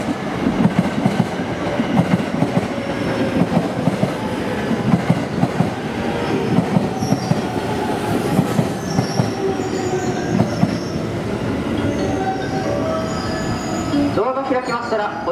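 A JR Kobe Line train rolls into Amagasaki Station during evening rush with a steady rumble, rhythmic wheel clatter and high metallic squeals of braking as it slows to a stop.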